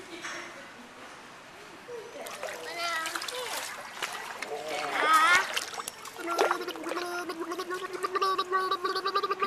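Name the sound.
child splashing and blowing bubbles in water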